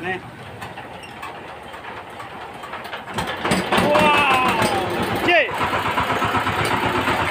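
VST Shakti power tiller engine cranks and catches, rising into a loud steady running chatter after a few seconds, with people talking throughout.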